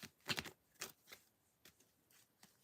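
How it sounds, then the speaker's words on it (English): A deck of cards being shuffled by hand, several quick riffling bursts and soft flicks spaced irregularly, faint and close in a quiet room with no talking. "I'm just shuffling the cards."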